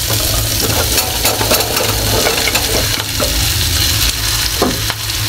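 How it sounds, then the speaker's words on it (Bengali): Cauliflower and potato being stir-fried in a pan for a winter vegetable bhaji, with a steady, loud sizzle and frequent scraping clicks of a spatula stirring throughout. "ফুলকপি আর আলুটা কেটে রেখেছি দিয়ে দিচ্ছি"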